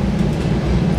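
Train rolling along a railroad beside a suburban subdivision, heard from a passing bus as a loud, steady low rumble and rush with no distinct clacks and no speech.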